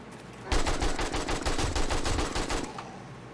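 An AK rifle in the video game 7 Days to Die fires a rapid automatic burst of about a dozen evenly spaced, loud, close shots lasting around two seconds, then stops.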